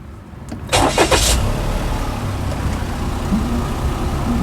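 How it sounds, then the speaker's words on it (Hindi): A Toyota Passo's engine cranks briefly and catches, then settles into a steady, close idle hum inside the car. "तो अगर हम गाड़ी को स्टार्ट करें"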